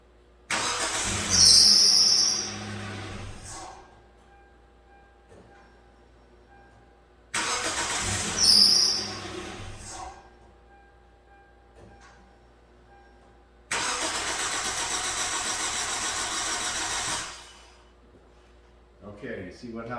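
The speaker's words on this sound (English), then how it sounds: "When it registered not checked, it just cranked and wouldn't fire." A 2008 Hyundai Elantra with an intermittent crank-no-start fault cranks three times without firing. Each bout of starter churning lasts about three seconds, loud and close, separated by quiet pauses.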